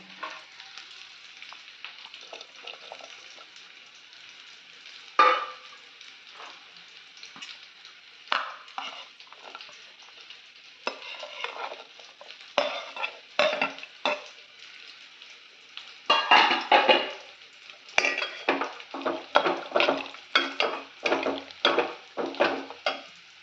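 A spoon scrapes and stirs through snake gourd cooking in a pot for kootu in irregular bursts, with soft sizzling between the strokes.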